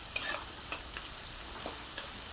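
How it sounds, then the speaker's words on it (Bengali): Onions frying in hot oil in a wok, a steady close sizzle broken by a few sharp scrapes and clicks as they are stirred. "ভাজছে এখন।"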